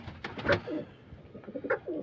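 A pigeon in a fancier's loft coos softly in a few short, low throaty phrases, quiet and fairly close, with a bit of background noise between calls.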